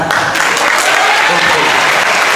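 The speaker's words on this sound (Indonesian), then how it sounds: "Ya, tepuk tangan." Steady applause from a classroom of students fills the whole stretch, dense and close, with no break in the clapping.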